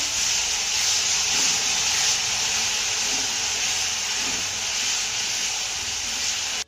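Tomato paste sautéing in a pan for a Marathi home-style fenugreek and chickpea dish, a steady, close broadband hiss and sizzle that runs without a break, no voices.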